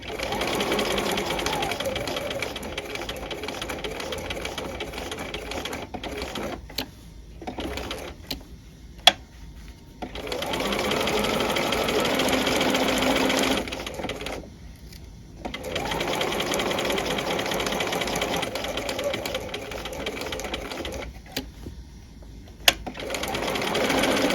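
A sewing machine stitches a tab welt pocket, whirring in long steady runs that stop several times for short pauses with small clicks, close and clear, with no talking.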